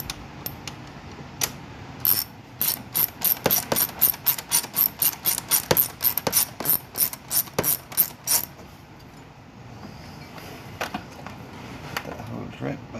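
A hand screwdriver drives screws into a fitting near a hose, giving a close, loud ratcheting click repeated in a rapid even run of turns, then slowing and trailing off into quieter background noise.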